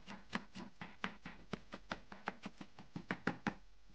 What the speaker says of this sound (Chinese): 再剁碎